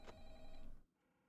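A telephone in a FNAF fangame video game rings in a few bright electronic bursts, then stops and leaves near silence, faint in the mix with no talk over it.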